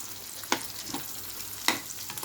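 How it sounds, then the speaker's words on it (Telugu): Bitter gourd masala gravy cooking in a kadai gives a steady soft sizzle, with two sharper stirring scrapes or spatters standing out near the pan. "అదే కడాయిలో నేను గ్రేవీ పులుసు పెట్టుకుంటున్నాను"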